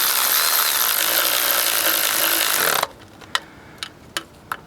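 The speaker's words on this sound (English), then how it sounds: "Now we're not going to tighten them down too tight." A ratchet wrench snugs down transmission pan bolts during a fluid and filter change. A steady rasping stretch gives way to several sharp, separate clicks, close up, with no talking.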